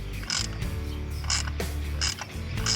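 A ratchet tightens the ignition coil bolts on a 2000 Toyota Corolla, making bursts of quick clicking strokes at close range with brief pauses between them.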